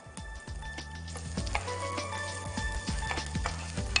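Curry leaves, ginger, green chilli and shallots sauté in coconut oil with a continuous sizzle, broken by repeated scraping and knocking of a spoon against the pan.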